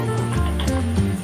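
Chopped potatoes for alu vaji fry lightly in hot oil, giving a soft, continuous sizzle with a few faint tonal hums and clicks from the pan.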